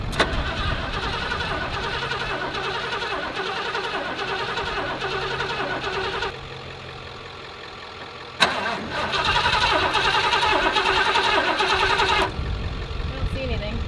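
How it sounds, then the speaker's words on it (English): A 1986 Ford F250 with a Super Cobra Jet engine cranks loudly on a jump start, a steady mechanical churn that cuts out, then a sharp catch and renewed cranking, with voices talking around it. "So let's jump it and see if it'll start with the ignition on."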